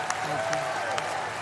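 A large convention crowd applauds Donald Trump's speech at the Republican National Convention, with a brief, steady wash of clapping and a few sharper claps.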